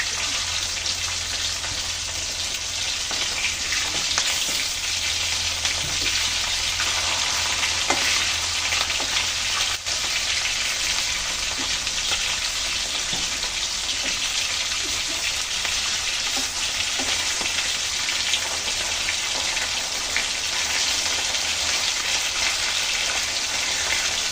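Hilsa fish pieces frying in a pan with oil, giving a steady, dense sizzle that runs continuously at close range, with occasional faint stirring clicks and no voices.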